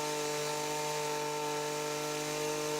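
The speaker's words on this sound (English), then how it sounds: "I used that leaf blower to dry it" A leaf blower runs steadily up close while drying a freshly power-washed car, giving a continuous loud motor whine with strong tonal hum and broadband air rush, with no talking.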